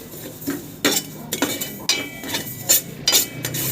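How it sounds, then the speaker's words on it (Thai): Roasted black sesame seeds are pounded in a mortar, giving a series of sharp, irregular knocks and clinks close by, with no talking. "คั่วเสร็จพอมันเย็นก็เอามาตำได้นะคะ"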